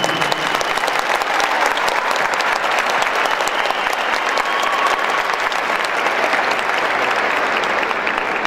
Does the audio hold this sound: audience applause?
yes